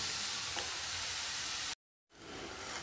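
Khoya roasting in a pan gives a steady, close frying sizzle with a soft hiss. The sound breaks off into a brief silence and then comes back a little quieter.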